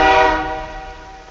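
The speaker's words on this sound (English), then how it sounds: "Oh, got killed by a train." A train horn blares over a passing train in a video game, loud at the start and fading steadily over a little over a second, with no talk.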